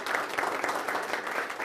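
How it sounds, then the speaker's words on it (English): Audience applause for Tom at a bootcamp session, a steady dense clapping from a roomful of people that holds at an even level throughout. "let's give Tom a round of applause"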